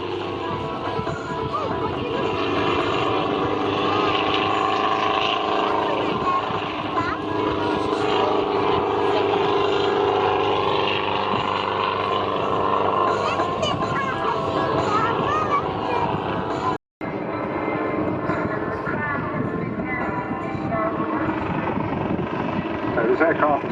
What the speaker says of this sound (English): a Schweitzer 300, family of light use, been in production for almost 50 years. Got a single 3-bladed main rotor